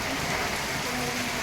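Heavy monsoon rain pours steadily at Pimpri Dukari, a dense, even roar of falling water with no pauses.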